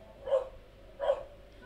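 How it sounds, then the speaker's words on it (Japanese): A pet dog barks twice indoors in a home, two short moderately loud yaps spaced about three-quarters of a second apart, with no talking over them. "今度は犬が吠えましたね"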